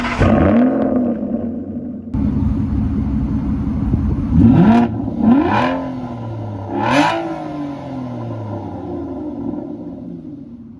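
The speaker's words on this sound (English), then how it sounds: "we have a naturally aspirated 6-liter V12 pushing about 565 horsepower" An Aston Martin Vanquish with a naturally aspirated 6-litre V12 of about 565 horsepower idles loudly up close, then blips its throttle in several sharp rising revs that fall back to a deep burble.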